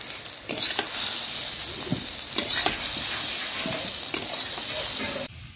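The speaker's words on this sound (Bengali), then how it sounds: "আলুটা ভাজা হয়ে গেছে, এখন উঠা নিব" Potatoes frying in a pan with salt and turmeric powder, a loud continuous sizzle with occasional scraping stirs, cutting off abruptly at the end.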